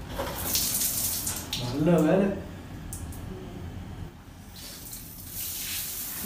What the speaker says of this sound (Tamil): இங்கே ஒரு ஹேண்ட் ஷவர் இருக்கு, இருங்க.